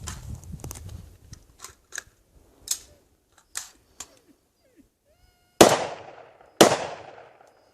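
Handgun shots fired with Missouri Bullet Company bullets: a few loud, sharp reports with ringing decay, following scattered lighter mechanical clicks and taps.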